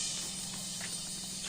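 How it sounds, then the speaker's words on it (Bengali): Continuous high-pitched buzzing trill of crickets in daytime in the hills of Khagrachari, steady and fairly loud, with no talking. "দিনের বেলায় ঝিঝি পোকা ডাকতেছে"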